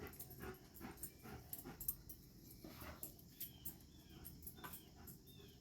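An excited pet dog that has been running around indoors whimpers and pants softly in the background, with faint cricket-like chirping alongside.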